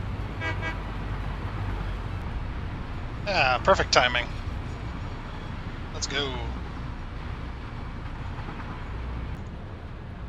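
In the Satisfactory video game, a coal train sounds a short series of horn toots followed by another brief blast over a low rolling rumble, while someone talks.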